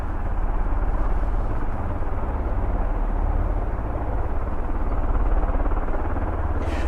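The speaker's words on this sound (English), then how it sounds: "The aircraft we're looking at, V-22 Ospreys. Sounds like the engine note is changing." V-22 Osprey tiltrotor aircraft run their engines and rotors on an airfield, a loud, steady, throbbing drone with a rapid pulsing beat that holds for the whole stretch, with no voices.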